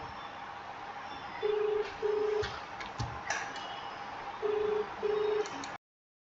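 Telephone call tones sound in a room during a Bhagavad Gita chanting session, with steady beeps arriving in two pairs and faint background noise beneath.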